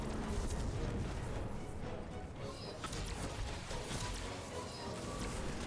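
Super ability unleashed on a boss in Destiny on a legendary exotic mission, heavy booming blasts and crashing impacts rolling continuously at high level with faint voice underneath.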